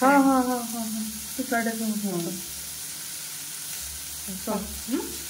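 Hot cooked rice frying in a pan, a steady sizzle running throughout beneath stretches of speech.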